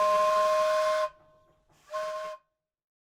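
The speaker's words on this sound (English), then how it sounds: "It carries a variety of whistles on it" A steam donkey engine, wood-fired and boiler-driven, sounds two loud steady steam whistle blasts, the first about a second long and the second shorter after a brief hissing gap, with no voices.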